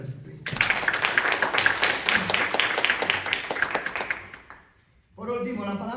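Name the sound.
congregation applauding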